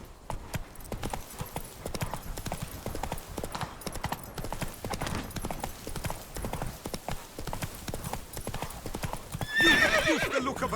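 Roach, the horse in Witcher 3, gallops with rapid, rhythmic clip-clop hoofbeats, steady and close, ending in a loud neigh near the close, with faint talk in the background.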